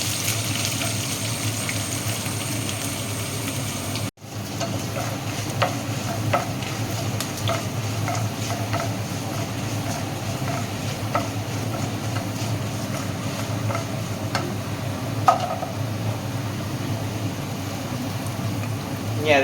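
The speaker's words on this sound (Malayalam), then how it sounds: "അതിലേക്ക് ചുവന്നുള്ളി അരിഞ്ഞത്, കരിവേപ്പില ഇടുക." Chopped shallots and curry leaves fry in a pan for a coconut-free yam stem thoran tempering, a steady close sizzle with occasional stirring scrapes and light clicks throughout, no talking.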